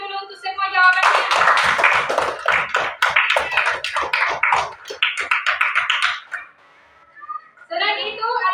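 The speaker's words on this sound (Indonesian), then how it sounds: "Tepuk tangan dulu untuk semua jawabannya." A classroom of students claps for classmates' answers in a rhythmic, fairly close burst lasting about five seconds, with a teacher's voice heard before and after the clapping.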